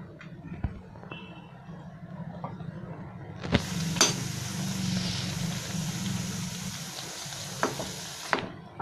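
Pea pod peels coated in batter for crispy matar sal bhaji frying in a pan, a steady loud sizzle that starts suddenly partway through and continues with a few sharp clatters.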